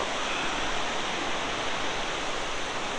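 Mountain river near Chalal rushing steadily as a dense, even broadband roar of flowing water, close and continuous with no voices.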